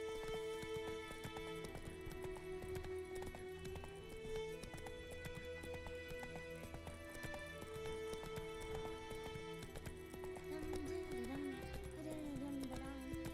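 Roach, a horse in The Witcher 3 video game, clip-clops along at a steady rhythm under continuous game music, hooves fairly close and moderately loud throughout.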